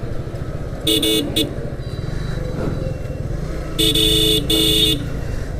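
Motorcycle riding through Barishal city traffic at night, its engine rumbling steadily while loud horns honk in two clusters of repeated toots nearby and a voice speaks over the noise.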